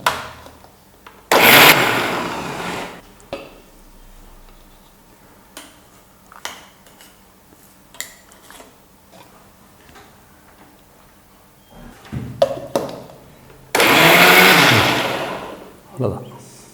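A kitchen mixer grinds soaked cashews, green chillies and fennel seeds into a paste for egg masala gravy in two loud whirring bursts, one near the start and one near the end, with quieter clatter and some talk between them.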